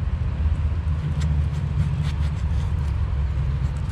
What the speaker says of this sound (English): A lot of traffic going by.